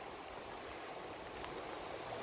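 The Malberry River runs low and dry, still trickling and flowing a little over rocks with a steady, soft, close-up wash of water alone.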